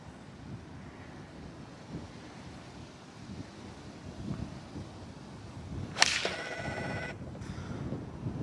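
Wind gusting across a golf course, making a steady low rumble of buffeting against the microphone, with a sharp whoosh and crack of a club swing striking the ball partway through.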